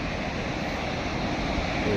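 A full, fast river rushes past at Ramban in Jammu and Kashmir, a dense, steady roar of flowing water with wind noise, constant and loud for the whole stretch.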